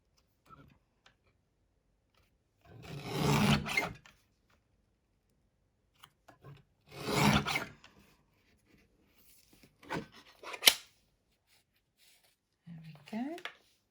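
A paper trimmer slices stamped paper in a few short, crisp strokes, each a quick scraping swipe separated by quiet pauses, with small clicks and taps from handling.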